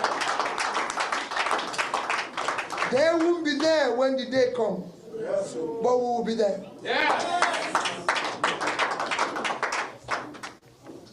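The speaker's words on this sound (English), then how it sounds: "So another round of applause for our presidential candidate" Crowd applause for presidential candidate Peter Obi at an election press conference, a rapid patter of clapping that runs throughout under someone speaking loudly over it.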